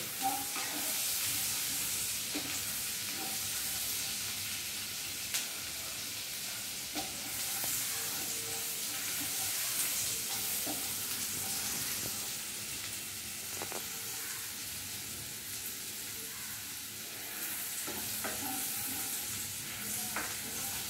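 Garlic fries gently in butter for a red sauce pasta, producing a soft, continuous sizzle with occasional light stirring clicks, fairly quiet and close, with no talking.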